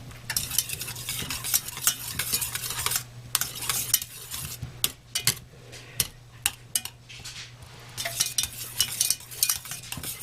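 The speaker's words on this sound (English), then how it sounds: "We're just going to melt that." Two tablespoons of butter melting in a thin pot over very low heat, with a spoon scraping and stirring in quick irregular strokes and soft clinks against the metal, over a faint steady hum.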